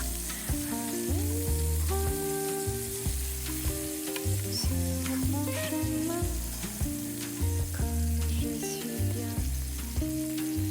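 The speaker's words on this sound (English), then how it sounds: "I'm also going to add in the onion rings just so everything can cook at once." Burger patties and onion rings fry together in a large pan, giving a steady, close sizzle that runs unbroken through the whole stretch with no voices.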